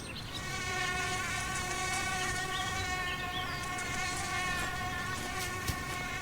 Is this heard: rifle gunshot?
no